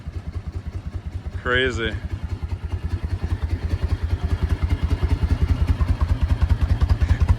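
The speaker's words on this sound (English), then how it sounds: "Abandoned bike back to life." An abandoned Harley-Davidson Road King runs through quiet pipes, its steady, even idle thumping close by for the whole stretch, with one brief spoken exclamation early on.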